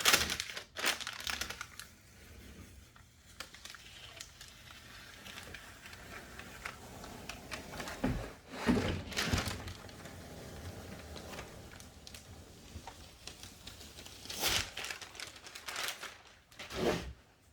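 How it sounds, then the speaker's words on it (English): Paper being crinkled and pulled out of a Lego minifigure display cabinet, with several bursts of rustling and crumpling, loudest around the middle and near the end, alongside small handling clicks. "Of course, I have to take the paper out."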